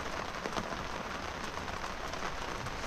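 Heavy rain falls steadily on a boat in a dry-dock port, a dense continuous hiss with scattered drop patter, even and fairly quiet throughout, no voices.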